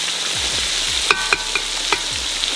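Large pieces of fish fry in oil at a roadside stall on the Kerala border, giving a constant bright hiss with a few sharp clinks and taps in the middle, close and with no talk.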